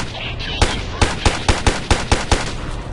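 Rapid gunfire in the Ghost Recon video game: a steady run of about eight loud, close shots spaced roughly a quarter second apart over a constant background rumble.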